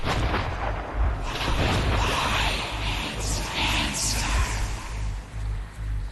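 Gunfire in the ending of the Metro 2033 video game, heavy booming shots over a low rumbling background mix, fairly quiet overall with sustained noisy texture.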